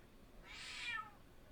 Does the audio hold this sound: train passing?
no